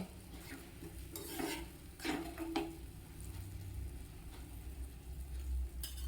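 An onion gravy being stirred in a pan, with a utensil scraping and clinking against the metal in a few distinct strokes over a low, steady sizzle, fairly close and with no talking.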